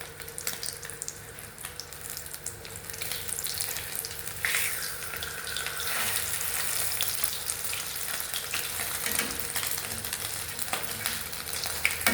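Food fries in hot oil in a Tunisian home kitchen, a steady close crackling sizzle with occasional spatter and faint clinks, no one speaking.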